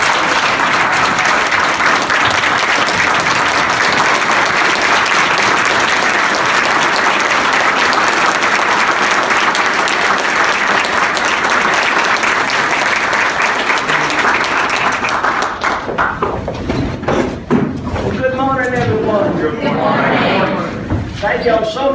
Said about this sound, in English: Governor, let's give her a round of applause.